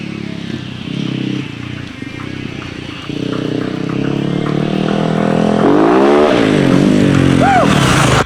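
A newly assembled 2010 M8 engine runs steadily, its pitch climbing and falling as it revs up toward the end, close and fairly loud.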